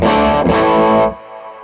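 Guitar through a Fuzzrocious Feed Me fuzz pedal followed by an Archer pedal gives one thick, saturated chord held for about a second before being cut off, leaving a faint ringing tail.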